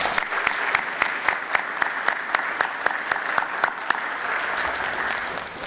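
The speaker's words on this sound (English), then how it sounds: "in attendance a round of applause" Audience applause at a high school National Honor Society induction ceremony, a steady dense clapping from a crowd that holds evenly throughout without pause.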